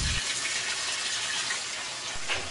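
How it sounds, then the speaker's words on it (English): A Whirlpool washing machine filling with cold water at the start of a cycle, a steady hissing rush of water flowing into the drum, continuous and close. "the washer starts filling properly with cold water"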